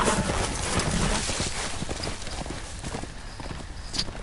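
Horse hooves clip-clopping in a steady, close rhythm on a hard surface, with a brief whinny-like sound near the end under light ambient noise.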